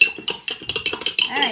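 A spoon stirring salt into water to dissolve it, a quick series of light clinks against the container, close and fairly sharp.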